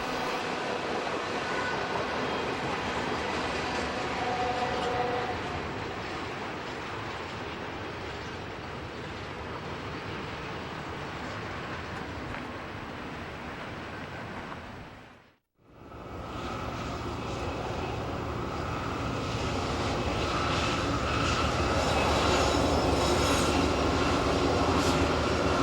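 A BNSF intermodal freight train rolls through Cajon Pass, its steady railcar rumble and wheel noise continuing loud and close, with a brief near-silent gap midway before the clatter resumes, the final cars being J.B. Hunt trailers on flatcars.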